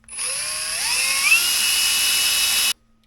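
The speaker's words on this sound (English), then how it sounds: "let's drill. Now we're only going through the first skin" Power drill whines at high pitch as it bores through the first skin of a boat hull, a steady close drilling sound rising slightly in pitch before stopping abruptly.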